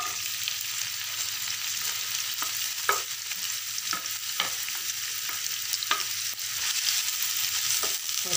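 Chopped onions frying in half a cup of oil in a pan for keema phulki, a constant loud sizzle with occasional short clicks of a spoon stirring, no talk.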